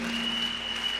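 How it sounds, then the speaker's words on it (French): Audience applause at a special Sunday programme, a steady, even wash of clapping that holds at constant level for about a second with no voices over it. "C'est beau. Acclame."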